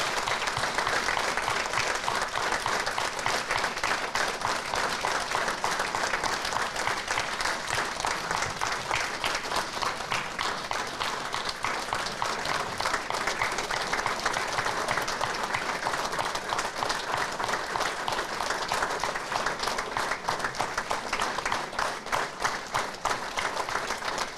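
Long, sustained applause from an audience at a university awards ceremony in Novo mesto, dense and even clapping that carries on without a break.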